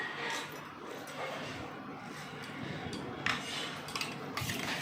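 Salt, sugar and ground black pepper being whisked into a spice mixture in a bowl for biryani, with steady metal-on-bowl scraping and clinking carrying on throughout at moderate volume, no voices.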